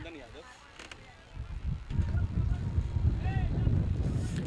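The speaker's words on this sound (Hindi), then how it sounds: "बहुत तेज हवा चल रही है" Strong wind buffets the microphone at an outdoor cricket ground during a semi-final match, a steady low roar with gusts that grow louder after the first second or two, mixed with faint distant sounds.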